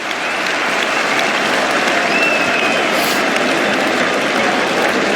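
Steady, loud applause rolls around the ground at an England versus India Test match as spectators cheer a four slapped through point, a dense wash of clapping with a faint whistle rising briefly above it.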